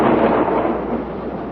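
A thunderstorm sound effect in an audio drama gives a loud, brief roll of thunder that rumbles and slowly fades.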